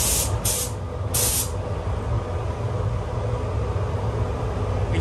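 Spray gun applying glossy lacquer over a liquid-wrapped car, a steady close hiss running throughout with brief bright bursts near the start.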